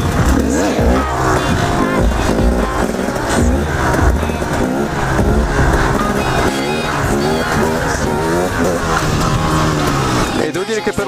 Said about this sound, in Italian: Ora vi faccio vedere un'altra impennata con la stunt bar.